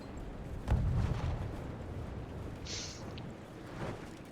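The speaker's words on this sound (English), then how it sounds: "Look how far those war rockets go." War rockets and artillery fire from a strategy video game battle: a muffled boom followed by rumbling, a brief whistling streak, and a softer thump later, all moderately distant under a constant battle din.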